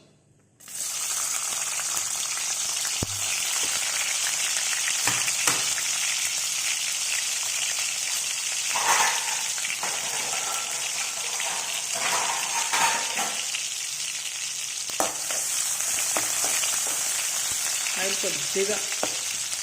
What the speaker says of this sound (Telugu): ఇప్పుడు ఆయిల్ కాగింది, ఇందులో ఆనియన్స్ వేసుకుందాం